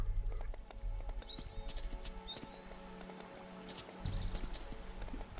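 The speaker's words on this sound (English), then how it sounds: "This is a good horse." Horse hooves clip-clopping in the survival video game Alek the Lost Kingdom, a soft, steady patter of hoofbeats against faint ambient chirps, fairly quiet and without talk.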